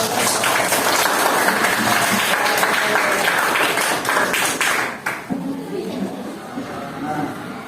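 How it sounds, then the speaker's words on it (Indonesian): Classroom students clap their hands together, a loud burst of group clapping that runs for about five seconds, then stops abruptly as a teacher and students begin talking. "Beri tepuk tangan dulu untuk berpuasa"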